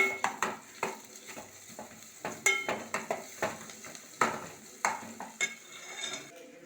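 Chicken with ginger fries in a pan, a soft sizzle running beneath repeated stirring scrapes and light metallic clinks of a spoon against the pan, fairly close and steady.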